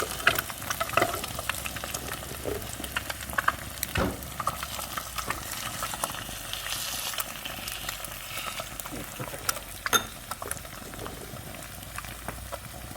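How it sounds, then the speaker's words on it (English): Two eggs, one a duck egg, sizzle and crackle steadily in hot butter in a pan, a continuous bubbling fry with occasional louder pops, close up. "I'm cooking both these eggs at the same heat"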